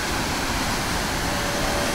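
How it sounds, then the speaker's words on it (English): A waterfall in the Pyrenees mountains rushes in a loud, continuous, even roar with no pauses, close by and alone, with no voices over it. "amazing waterfall"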